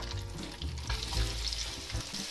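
Chopped onions frying in oil with cumin seeds and bay leaves, for an ivy gourd dish: a loud, dense sizzle that holds steady close by, with no voices.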